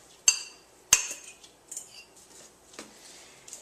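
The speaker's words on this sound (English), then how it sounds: "Mix that thoroughly." A spoon or utensil clinks sharply against a bowl while muffin batter with apple and carrot is mixed, two bright knocks followed by softer scraping taps, close and quiet with no talking.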